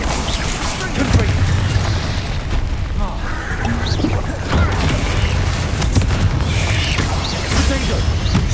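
Confringo blasting spells in Hogwarts Legacy boom repeatedly in a loud, crowded battle, heavy thuds and bursts running continuously over a constant rumble of fighting.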